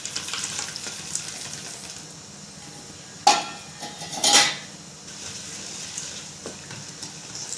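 Steady soft bubbling and sizzling from water coming to a light boil in a pan, with two brief clanks of a utensil against metal partway through.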